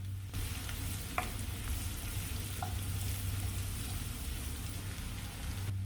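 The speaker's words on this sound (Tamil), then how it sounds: "கடாயில் கொஞ்சம் அதிகமாக நல்லெண்ணெய் சேர்த்துக்கலாம் பொடியாக நறுக்கின வெங்காயம் சேர்த்து வதக்கலாம்" Chopped onion sautéing in a generous pour of sesame oil in a kadai, a steady broadband sizzle throughout with a couple of faint utensil clicks, close and continuous with no talking.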